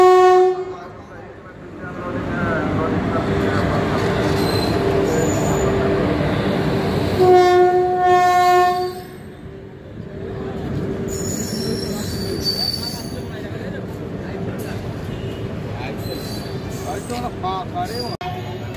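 The Shahid Express superfast train pulls into a station, wheels squealing loudly, with a horn blast and the rumble of passing carriages over platform crowd noise.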